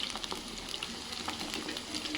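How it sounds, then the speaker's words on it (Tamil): Cauliflower pieces for Gobi Manchurian frying in hot oil, a steady close bubbling sizzle with soft crackles throughout, no talking. "நல்லா கலர் வர வரைக்கும் ஃப்ரை ஆகட்டும்"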